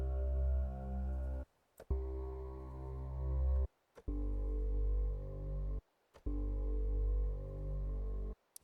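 Sustained piano chords from a single layer of the Refraction expansion for the Revelation Scoring Grand sound alone, each held for about two seconds and cut off abruptly, four in a row with brief silences between.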